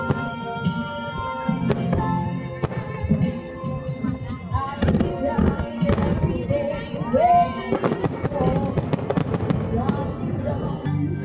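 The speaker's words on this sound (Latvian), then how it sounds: "Šitas salūts bija speciāli priekš Tamāras pasūtīts" A fireworks display over the water in Bangkok on Valentine's Day, heard from a boat: repeated booms, pops and crackles, near and far, under people talking and a murmuring crowd.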